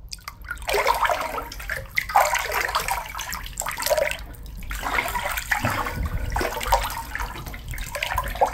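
Water sloshes and splashes in a bathtub as an object is dropped in and moved around, close-up irregular watery gurgles and drips with no talking.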